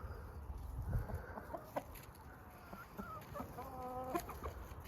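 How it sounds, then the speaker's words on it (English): Adult chickens cluck and call in short, scattered bursts while eating scraps at their morning feed, nearby and moderately loud, with occasional rustling and a faint crow-like call. "These are the adult chickens"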